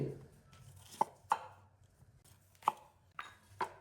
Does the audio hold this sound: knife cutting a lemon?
yes